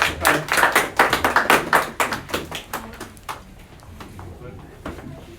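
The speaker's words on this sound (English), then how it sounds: "Give her a round of applause, guys." Applause for a buyer at a live property auction in Manukau: a close burst of quick, sharp hand claps that thins out into scattered claps and fades to a few faint taps.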